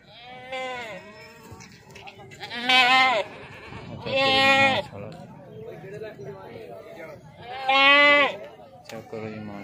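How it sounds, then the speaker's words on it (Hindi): Goats bleat loudly at a livestock market, a few drawn-out wavering calls rising above someone talking and the murmur of the crowd, with quieter bleats between them. "देखो जी हर तरह का बकरा मौजूद है"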